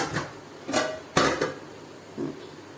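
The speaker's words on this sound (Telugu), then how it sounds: "మళ్ళీ ఇంకో ప్లేట్ పెడుతున్నా" Dishes clatter as a plate is set down during the making of aviri appadalu, steamed rice papads, with a few short knocks and clinks, one sharper than the rest, in a quiet room.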